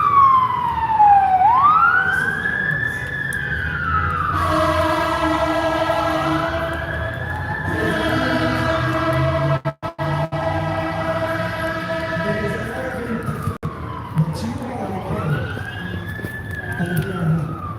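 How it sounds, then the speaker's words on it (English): Fire engine siren passing a street protest in Austin, a loud wailing tone sweeping up and down repeatedly, then a steady high yelp, close and sustained, over crowd murmur and talking. "Sounds like an ambulance."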